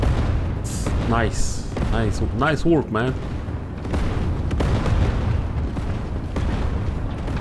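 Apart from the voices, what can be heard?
furnace explosion in Sniper Elite 5 video game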